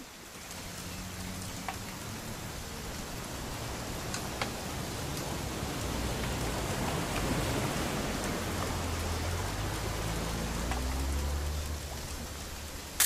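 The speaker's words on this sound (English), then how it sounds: "It's gonna rain the whole weekend" Steady rain in the video game What Remains of Edith Finch patters and hisses across the whole stretch, with occasional drips and a low rumble swelling near the end; no voices.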